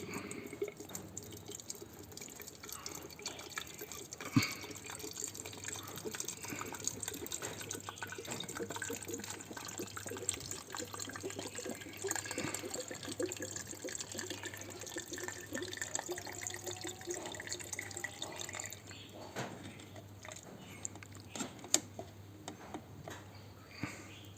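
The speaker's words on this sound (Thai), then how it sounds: "จากนั้นเติม น้ำยา ลงไปก่อนนะครับ น้ำยาล้าง" Injector cleaning solution is poured into a bottle for a Nissan Navara D40 fuel injector cleaning, a faint, quiet stream of trickling, dripping liquid over a low steady background hum.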